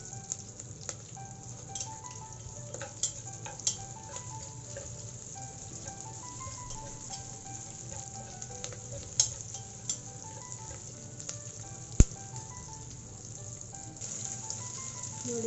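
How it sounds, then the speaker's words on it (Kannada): Seven or eight whole dried red chillies fry in a pan for a festive Ugadi dish, giving a steady close sizzle with scattered light pops and stirring clicks and one sharp knock near the end. "ಹಿಂಗೇನೆ ಹಾಕಬೇಕು ಒಣಮೆಣಸಿನ್ಕಾಯಿ ದೊಡ್ಡ ಸಮೇತ. ಚೆನ್ನಾಗಿ ಫ್ರೈ ಆಗಬೇಕದು."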